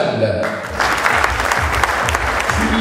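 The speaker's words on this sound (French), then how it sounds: "Vous allez pouvoir les applaudir." A crowd at a sports awards ceremony applauds loudly and steadily, close-up clapping that runs throughout with music and a voice underneath.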